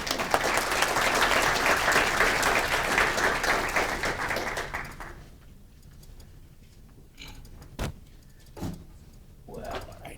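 Audience applause welcoming a speaker at a talk on dementia: dense, steady clapping for about five seconds that fades, followed by a few scattered claps and small knocks in a quiet room.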